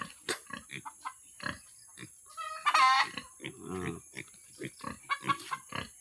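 Wild boars kept in a farm pen grunt and snort in short, repeated bursts, close to the microphone, with one louder squealing grunt partway through and no talk.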